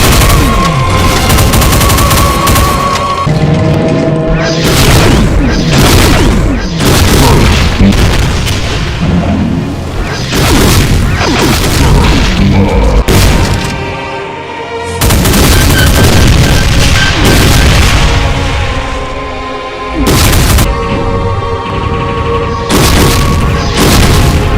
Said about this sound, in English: volleys of heavy railgun shots